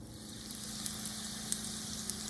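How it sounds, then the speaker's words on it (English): Seasoned potatoes fry in a pan with a steady, low sizzle and faint crackle throughout, a few tiny pops rising briefly above the constant hiss. "You can see these potatoes are browning up really quick."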